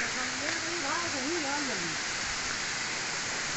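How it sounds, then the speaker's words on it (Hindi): Sita Kund waterfall pours in a steady, dense rushing roar, with a person talking briefly over it early on before the water carries on alone. "काफ़ी खूबसूरत है यार झरना तो एकदम आसमान से भर है"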